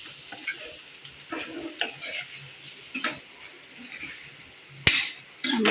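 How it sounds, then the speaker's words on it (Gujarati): Curry leaves sizzling in hot oil as a tempering for an ivy gourd curry, with crackling spatters and spoon scrapes against the pan, bursts of hiss rising and falling, and a sharp clatter near the end. "મીઠી લીમડીના પાનનો વઘાર કરીએ એટલે એટલી સરસ સુગંધ આવે"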